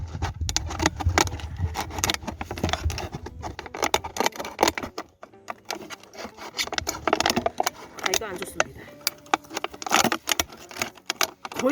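Material is ripped off by hand without scissors while a snake and mole repeller is being installed at a weekend farm plot: close, crinkly rips and crackling rustles come in irregular bursts, with voices around them.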